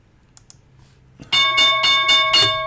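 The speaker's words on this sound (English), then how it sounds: "Oh, the bell's going to ring, and I'm not even going to know it." A stock market opening bell rings in a rapid series of about five loud metallic strikes after two faint ticks and near silence, with no talk over it.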